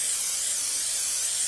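Cooking oil sprayed across a baking tray, a steady bright hiss lasting about a second and a half, close and fairly soft, with no voices.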